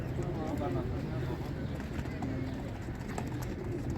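Kupalik pigeons in a coop give low, steady cooing under a constant hum of background noise, close and moderately loud, with no clear breaks.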